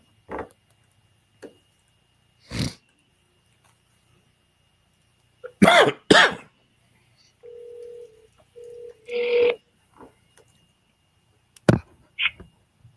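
Phone call placed back to a caller, with a short steady dial or ringback tone in pieces amid scattered clicks and handling knocks, no speech.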